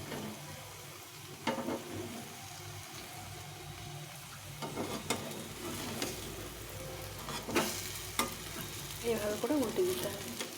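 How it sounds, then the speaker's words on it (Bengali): A tiffin snack fries slowly over low heat in a pan, giving a soft, continuous sizzle broken by occasional sharper crackles and utensil taps. "আস্তে আস্তে অল্প হিটে এটা ভাজা হবে"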